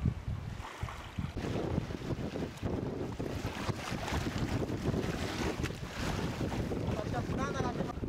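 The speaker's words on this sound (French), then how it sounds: "Le vent s'est levé et c'est sous voile que nous avons repris notre navigation" A sailboat runs under sail in a strong wind on the open sea, with steady wind buffeting on the microphone, rushing water and waves along the hull, and faint voices in the background.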